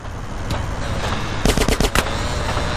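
Rapid bursts of automatic gunfire in GTA San Andreas, several quick cracking shots clustered together over steady game background noise, loud and close, with no talking.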